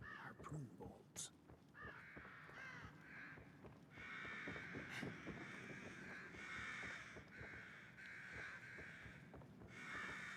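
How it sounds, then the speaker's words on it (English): Crows caw harshly and repeatedly in The Evil Within, the calls rising in long bursts over ambient game noise while someone talks at times. "Bunch of angry crows up here."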